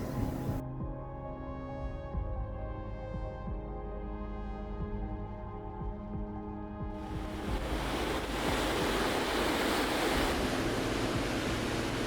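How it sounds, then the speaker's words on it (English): Ocean waves crash over the rocky walls of sea pools on the ocean's edge, a steady broadband roar of surf. The crashing surges in loud and continuous for the second half, after a quieter tonal passage. "pools built on the edge of the ocean that are filled by the ocean waves crashing over the rocky walls"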